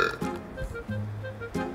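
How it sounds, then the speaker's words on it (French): A single low, drawn-out belch rumbles for about a second, loud and close, with brief voice-like sounds around it. "t'as roté là?"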